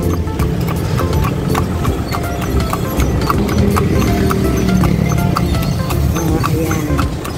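A horse pulling a kalesa, or tartanilya, clip-clops through town in Iligan City as the carriage turns. The hoofbeats are steady and near, over continuous street and traffic noise.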